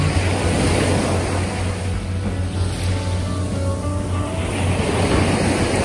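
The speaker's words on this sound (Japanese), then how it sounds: "うおー、波がでっかい。" Large ocean waves on Tokyo Bay roar and wash continuously, loud and close, mixed with heavy wind buffeting; no speech.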